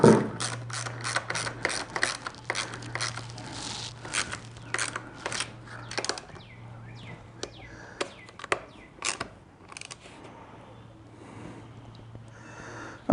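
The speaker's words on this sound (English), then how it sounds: "Let's get these snugged up. We don't want to really crank it down just yet until we position it." A ratchet tightening nuts on dirt bike hand guards gives rapid bursts of clicking pawl ratchets, close and fairly loud, in several runs separated by short pauses and clinks of hardware.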